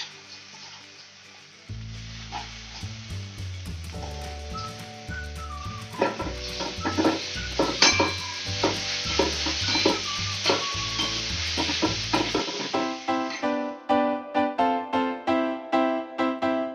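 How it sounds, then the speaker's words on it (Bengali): Chicken mince drops into a sizzling spice masala and is stirred, a continuous close frying hiss punctuated by rhythmic scraping strokes that grow quicker and more regular toward the end, with faint background music. "এবার এর মধ্যে আমি চিকেনের কিমাটা দিয়ে দিচ্ছি।"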